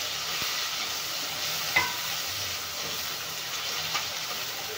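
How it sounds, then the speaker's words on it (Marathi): Two tomatoes sizzle steadily in hot oil in a home kitchen, with ginger and garlic already fried in the pan. A dense, continuous frying hiss carries a couple of faint utensil clinks, and no one speaks. "यालाही तेलामध्ये छान फ्राय करून घ्यायचे."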